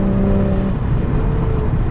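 Turbosmart blow-off valve on a BMW F10 535i, heard from inside the car with the window down: a steady engine drone with a short sustained whistle-like tone that fades after the first moment, continuous and fairly loud.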